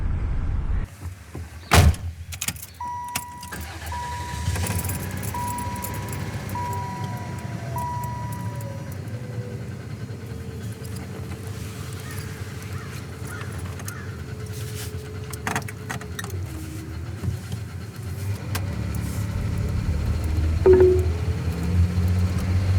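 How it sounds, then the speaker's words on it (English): An RV engine cranks into life and then idles as a steady low rumble. A jangle of keys and a door clunk come near the start, with lighter clicks scattered through the rest. "So I started up the RV"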